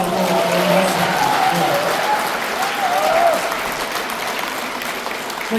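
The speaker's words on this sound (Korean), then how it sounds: "동의하시면 좀 박수 좀 주시면" Applause fills a convention hall at a book concert in Daejeon, a broad wash of many hands clapping at a distance, steady for several seconds, with faint voices and a brief tonal sound early on.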